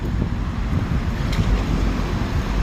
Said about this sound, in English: The wind is blowing, which is a good thing.